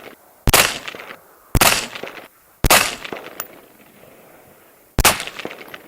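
Four sharp rifle shots of Hornady Match ammunition from a fluted 14.5-inch Trident barrel ring out, loud and close, spaced about a second apart with a longer pause before the last, each followed by a short echoing decay.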